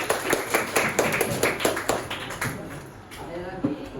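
Scattered applause from a classroom of students, a burst of uneven claps that thins out, with voices chattering underneath.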